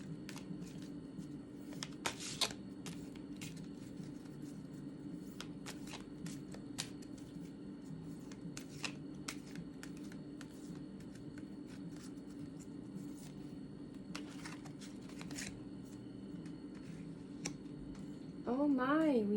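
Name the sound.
shuffling oracle cards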